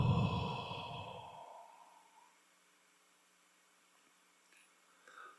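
A long, slow exhalation during a guided meditation, a soft breathy rush that starts fairly loud and close and tapers into near silence, followed by a faint breath at the end.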